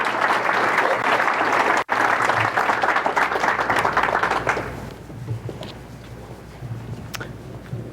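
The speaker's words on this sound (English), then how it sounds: "Big hand of applause for Margaret" An audience applauds to welcome a speaker to the stage, loud sustained clapping for about five seconds that then thins and fades to a quiet room with a few scattered claps.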